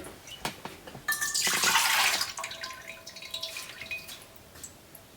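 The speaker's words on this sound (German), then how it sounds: "Machen wir in die Maschine, erstmal Milch da rein." Milk is poured into a kitchen machine for a yeast dough, a close liquid gush swelling for about a second and tapering into trickles and drips amid light clinks, no talk.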